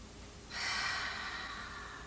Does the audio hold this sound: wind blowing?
no